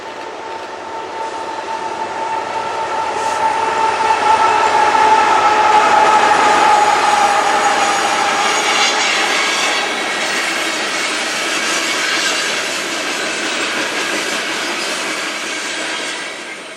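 A long freight oil train rumbles past at close range at Titlow Beach, Tacoma, Washington, a continuous heavy roar of rolling wagons with a faint high squeal, swelling and easing slightly.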